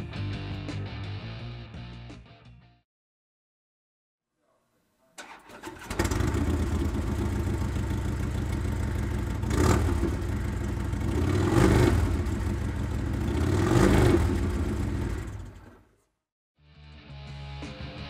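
A 2014 Harley-Davidson Street Glide Special idles with a deep, loud rumble, going quiet briefly before a restart; the engine then runs steadily with a few throttle blips before cutting off and firing again.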